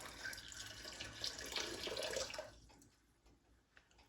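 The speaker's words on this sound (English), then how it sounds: "I'm just going to start filling my jars" Thick hot chocolate cherry jam pours and splashes into canning jars for about two and a half seconds, a close, moderately loud wet rush that then drops away to near silence.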